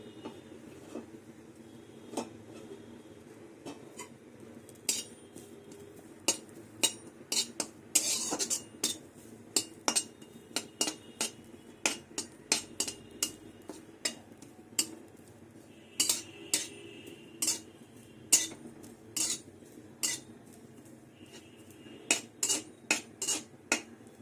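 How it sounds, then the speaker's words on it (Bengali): Neem leaves dry-roasting in an oil-free pan, stirred with a metal utensil that scrapes and clinks against the pan in irregular, frequent taps over a faint steady background rustle, with no talking. "এবার আমি নিম পাতাটা শুকনো খোলাতে ভেজে নেব"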